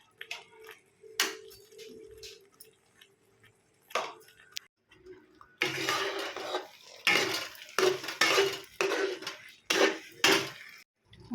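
Stuffed brinjal curry with chilli powder, homemade garam masala and salt is stirred in a pan: scattered spoon taps and clinks, then a run of loud, rhythmic scraping strokes against the metal, close up with no talking.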